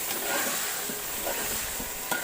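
Biryani gravy coming to a boil in a pot with ghee beginning to separate, giving a steady close bubbling sizzle and hiss that runs unbroken, with one brief clink near the end.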